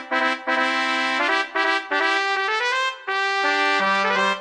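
Subway station train arrival chime recreated in Minecraft, a bright trumpet-like melody of sustained notes in short phrases, clear and alone.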